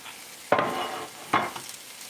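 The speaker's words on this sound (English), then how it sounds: "And the meat's frying up great." Meat sizzles and fries in a hot pan for fajitas, a soft steady crackle with two sharper bursts as food is stirred or moved, close by and without talk.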